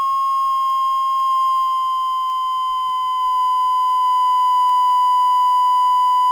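HP 3551A transmission test set putting out a steady 1 kHz test tone, a pure, loud, unbroken whine held for over six seconds with faint higher harmonics.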